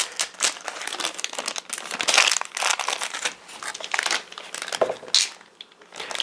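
Plastic bags crinkling as board game components are packed back into them, with continuous close, busy rustling and crackling for several seconds and brief pauses near the end.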